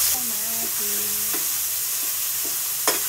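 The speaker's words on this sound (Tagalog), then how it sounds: "Dahil mainit na ang mantika, ilagay na natin ang kamatis yan." Tomatoes go into hot oil in a pan, a constant close sizzle with a few scraping clinks of a utensil and a brief hum of tones near the start.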